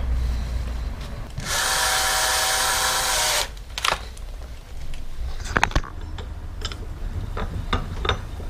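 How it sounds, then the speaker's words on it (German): A clogged power drill whirs loudly for about two seconds, then stops, followed by scattered clicks and small tapping handling noises. "Die Bohrmaschine ist von gestern noch so"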